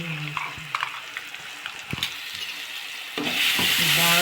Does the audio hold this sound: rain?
no